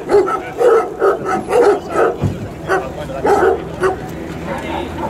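Hunting dogs bark and yelp repeatedly from dog vehicles at a Spanish driven-hunt estate, a close, busy run of barks mixed with whines and a voice talking.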